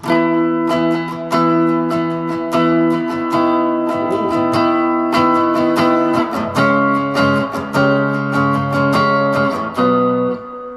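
Clean electric guitar chords from a Stagg M350 offset guitar ringing out with a touch of reverb, strummed steadily and loud, no voices.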